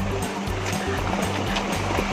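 River water flows in a continuous, close rushing wash that holds steady throughout, with a faint low rhythmic undertone beneath.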